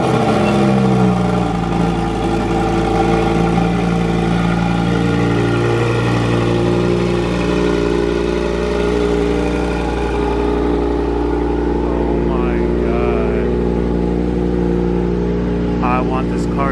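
A supercar fitted with an upgraded Akrapovic exhaust runs loud and close, its engine holding a deep, steady harmonic drone throughout with rising revs.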